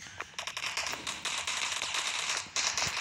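Sharp cracking gunshots from the video game Dude Theft Wars, several reports at irregular intervals over a busy, bright game soundscape, with a louder burst near the end.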